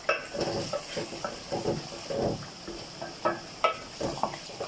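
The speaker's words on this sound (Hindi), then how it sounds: "अब हम इसको अच्छी तरह भून लेंगे" Spices with black pepper frying in a pan for chicken biryani, giving a soft sizzle broken by repeated close scraping and stirring strokes against the metal, with no voices.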